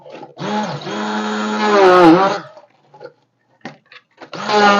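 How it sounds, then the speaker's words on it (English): A small blender whirs loudly through watermelon sorbetto, its motor pitch sagging as it labours, then cuts out; a few short knocks follow before it starts again. "And now I'm going to start blending."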